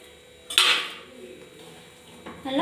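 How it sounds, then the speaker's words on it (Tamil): Fish pieces going into a pot of simmering fish curry give a brief clatter of pot and utensil, followed by quieter kitchen rustle and another knock near the end. "இப்போ மீன் போட்டுக்கலாம் மக்கள். மீன் போட்டுக்கலாங்க. மீன் குழம்பு ரெடி ஆயிடுச்சுங்க."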